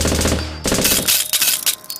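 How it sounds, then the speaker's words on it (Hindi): Rapid cartoon gunfire as aliens shoot at a UFO, a dense burst of bangs and rattling shots over about two seconds, loud and alone. "तभी एलियंस गुल्ली बुल्ली और रॉड के यूएफओ पे गोली चलाने लगते हैं।"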